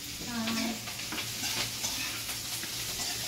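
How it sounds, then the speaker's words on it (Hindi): Spaghetti and vegetables stir-fried in a home kitchen pan produce a steady sizzle with scraping and stirring strokes, close and continuous. "मम्मी यहाँ पे बना रही हैं स्पैगेटी, और अभी मम्मी ने सारी वेजेस डाल दी हैं।"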